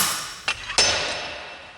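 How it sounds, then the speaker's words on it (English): A slide hammer strikes twice in quick succession while pulling a differential shaft on a Supra, giving sharp metallic clanks with a ringing tail, close and clear. "Slide hammer, take 1."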